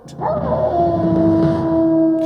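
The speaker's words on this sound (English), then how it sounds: "his dog howled in the moonlight" A dog howls in the moonlight: one long, loud, sustained howl rising at the start and then holding a steady wavering pitch close by.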